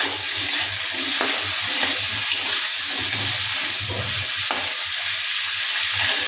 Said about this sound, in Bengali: একটু নাড়াচাড়া করে আমি জল দেবো।